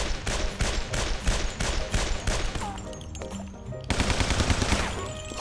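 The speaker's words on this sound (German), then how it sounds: "Ich schieße den Zombies einfach immer wieder in den Schritt" Rapid gunfire rings out while shooting zombies in Guns, Gore and Cannoli, loud, close bursts of automatic shots in a quick steady rhythm, briefly thinning out before a fresh volley resumes.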